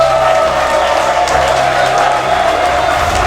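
Steady, dense applause and crowd noise from an audience at the inauguration ceremony for a new administrative building, loud and continuous throughout without a break.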